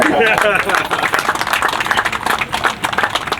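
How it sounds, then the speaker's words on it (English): Crowd applause at a high school groundbreaking ceremony, a burst of many hands clapping for the mayor, loud and dense at first, then thinning slightly while voices murmur underneath. "I'm going to clap for you"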